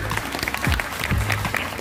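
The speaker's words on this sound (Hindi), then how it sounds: "इसलिए बजाइए तालियां।" Applause from an audience at a public school event, a soft, continuous patter of many hands, fairly distant and quiet, with faint voices mixed in.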